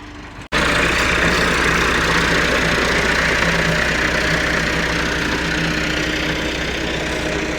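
A tractor's engine idles steadily and loudly up close after ploughing a field, a constant low rumbling drone that starts abruptly after a brief cut and holds unchanged throughout.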